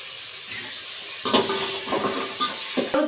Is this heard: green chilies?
yes